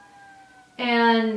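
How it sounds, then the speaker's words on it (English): Fire engine siren passing down a residential street, bursting in loud and close with strong wailing harmonics after a quieter, steadier opening tone, and a brief spoken word at the start. "I think I'm having a fire engine going down my street."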